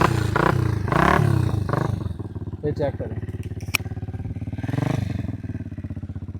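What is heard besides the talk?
Hi Speed Infinity SR 150 motorcycle being kick-started, engine running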